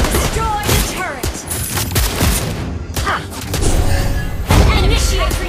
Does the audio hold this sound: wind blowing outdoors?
no